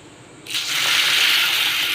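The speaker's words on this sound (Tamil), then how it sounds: "மூணு தடவை தண்ணி ஊற்றி நல்லா கழுவிட்டேன்" Soaked mung beans being rinsed in a bowl, with a sudden loud rush of pouring water starting partway in and continuing steadily, close up and without talk.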